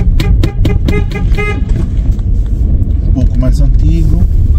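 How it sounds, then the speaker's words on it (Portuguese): Car horn honking in residential traffic, with several short toots and honks near the start and a longer tone later, under someone talking over the steady hum of the car. "tive que buzinar, né?"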